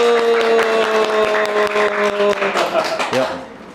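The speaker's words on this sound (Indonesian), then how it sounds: "tepuk tangan dulu." A talk show audience claps on cue in an Indonesian studio, with scattered sharp claps over steady background music before the clapping fades out.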